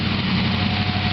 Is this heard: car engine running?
yes